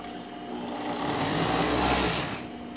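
A sewing machine stitches the shoulder seam of a men's tank top, a steady close motor whir with rapid needle chatter that swells slightly in the middle of a short run.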